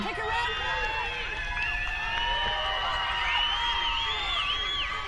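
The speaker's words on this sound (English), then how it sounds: "With a chant coming from the crowd here" Crowd at the Aviva Stadium during a women's small college rugby final between Lee and Endicott, a steady wash of voices with rising whoops and chant-like calls, while a commentator talks over it.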